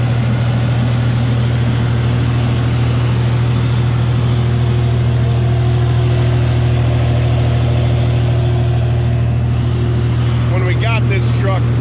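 Fire truck engine running steadily while its pump flows 2,000 gallons a minute, a loud constant low drone with a strong steady hum throughout, and a voice briefly speaking near the end.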